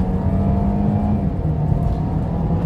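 A Land Rover Evoque engine climbs past 6000 rpm under hard acceleration with a steady, droning rising hum heard from inside the cabin, loud and continuous with no talking.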